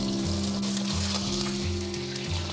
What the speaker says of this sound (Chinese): 接着我们再下入豆腐，然后保持中火煎